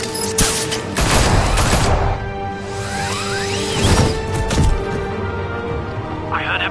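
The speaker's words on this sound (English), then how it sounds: "It's Batman! Shoot him!" Gunfire erupts in a Batman video game, loud bursts of rapid shots in two clusters with whooshing and crashing effects between them, close and dominant throughout.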